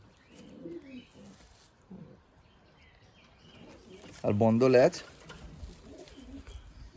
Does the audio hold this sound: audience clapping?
no